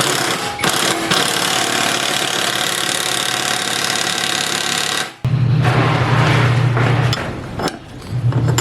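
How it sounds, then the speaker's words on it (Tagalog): An impact wrench hammers a bolt into a scooter's steering ball race, a loud, dense rattling burst close by for about five seconds, then stopping, followed by quieter workshop noise. "gagamit ako ng impact wrench dun sa ilalim"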